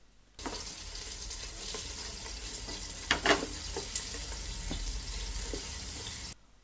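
Chickpeas with peanuts, coconut powder and coriander powder frying in a pan, giving a steady close sizzle with spoon stirring and a few sharper scraping knocks midway, alone without talk.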